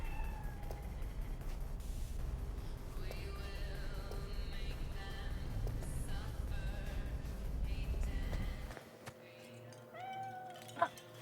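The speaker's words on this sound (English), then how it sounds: "Johnny, what have you done with the cat?" A cat in the video game Cyberpunk 2077: Phantom Liberty meows several times, close and clear over faint game ambience, and a soft voice is briefly heard.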